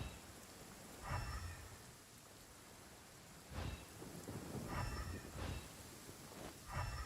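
Steady rain patters in the Genshin Impact video game while three deep thunder rumbles roll in at intervals, fairly quiet overall.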